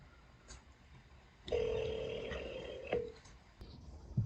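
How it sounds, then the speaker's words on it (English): Telephone call ringing out unanswered, a ringback tone with one clear long ring plus fainter ones before and after, quiet and close, alone without talk. "they did not pick up the phone. It was ringing for some time there"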